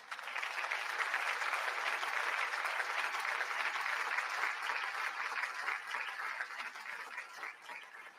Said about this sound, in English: we just want to give you a round of applause